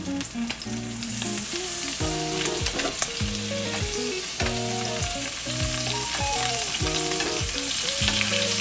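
A pork chop fries in butter in a pan over medium heat, a constant bright sizzle running throughout beneath prominent background music.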